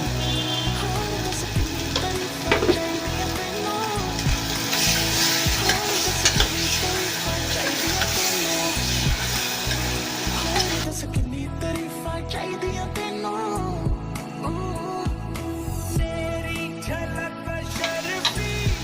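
Mutton kheema sizzles and bubbles in a pan with home-made mutton masala and turmeric. A loud, continuous frying hiss carries on throughout, broken by the scrape and clatter of stirring and no voices.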